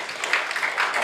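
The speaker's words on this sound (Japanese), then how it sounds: "ナオミがいいと思う方拍手をどうぞ" Improv show audience clapping to vote for a performer, a brief burst of dense, fairly steady applause from a crowd.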